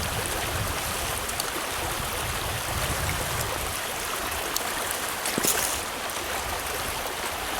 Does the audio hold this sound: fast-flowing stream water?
yes